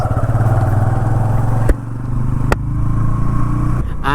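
Honda CB 125 Hornet motorcycle being ridden, its engine humming steadily with gear shifts and throttle changes, loud and close with sharp clicks, no talk.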